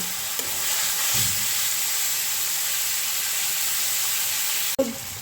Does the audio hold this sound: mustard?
yes